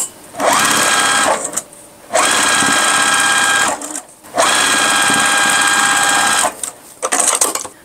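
Sewing machine stitching pieces of a starry pumpkin quilt block: three loud sustained runs of steady motor whir, each several seconds long, broken by short quiet pauses, with no talking.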